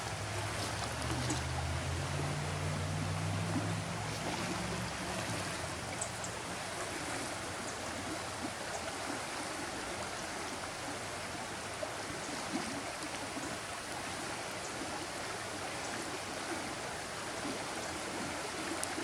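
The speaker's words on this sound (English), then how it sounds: "Here's our creek." Creek water in an Oregon rainforest flows steadily with a broad, even rushing wash that holds constant from start to finish, close and unbroken, with no voices over it.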